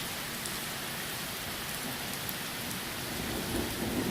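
Heavy thunderstorm rain pouring steadily over a freshly topsoiled and seeded lawn, a dense, even hiss with low thunder rumbling beneath, no voices.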